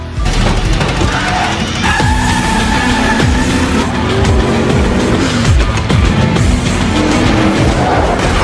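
Race cars speeding in the first race of the film Death Race, loud engine roars with pitch sweeps as cars pass, plus screeching tires and crashes in a dense, continuous action mix.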